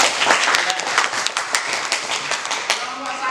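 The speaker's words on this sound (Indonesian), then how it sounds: "tepuk tangan buat kita semuanya" A small class or group claps after group presentations in a teaching session; the clapping is uneven and close, with distinct individual claps standing out over a thinner wash of applause.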